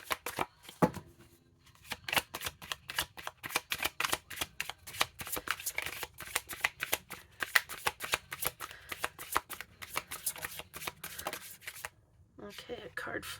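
Tarot cards are shuffled steadily for several seconds in rapid, close riffling flurries, ending with a pause and some soft handling.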